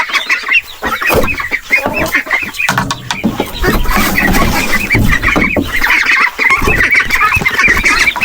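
A flock of chickens on a native pig farm clucks and squawks loudly and continuously. The birds sound close, with overlapping calls and no voices.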